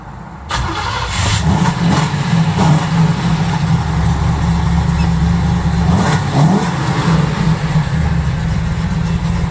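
A restored, fuel-injected 1969 Chevrolet Camaro Z/28 with a 302 engine cranks and catches quickly, then settles into a loud, steady idle with several blips of revving, heard up close with no talking.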